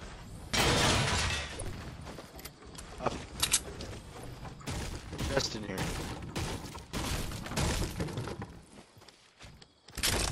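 Gunfire and clattering action in Fortnite, scattered shots and impacts at varying distance within a busy, fairly quiet game mix, with a voice speaking briefly.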